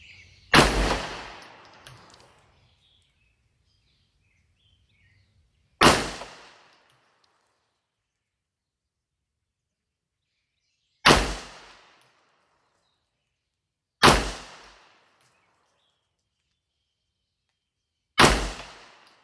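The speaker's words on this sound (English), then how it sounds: "I again set up at 25 yards and fired another 5-shot group, and here's how that went" Five sharp rifle gunshots fired one at a time at a 25-yard range while testing a Nutrek Optics ROVAC scope, each loud crack trailing off, spaced several seconds apart with silence between.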